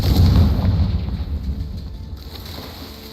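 A Confringo explosion spell cast in a video game lands as a loud, rumbling low blast that swells at once and then fades into a long, noisy tail, with no voices over it.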